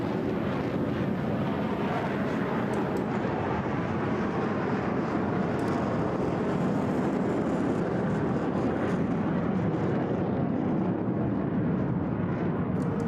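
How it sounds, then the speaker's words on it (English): A HAL Tejas jet at the Bahrain Air Show 2016 climbs steeply with afterburner engaged, giving a continuous, fairly distant roar that stays steady throughout with no pauses. "the afterburner will be kicked back in into a steep vertical climb from the slow speed pass"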